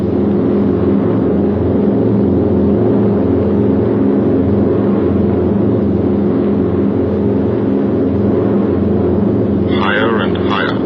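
Droning piston engines of a B-17 Flying Fortress bomber at high altitude, a loud, steady multi-engine hum with throbbing low tones, continuing under a narrator's voice.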